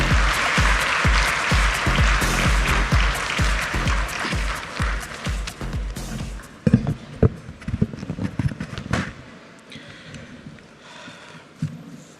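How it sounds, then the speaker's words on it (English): A large audience at the Global Fintech Fest 2024 gathering gives sustained, dense applause that gradually thins into scattered claps and fades out. "can we keep that round of applause going one more time"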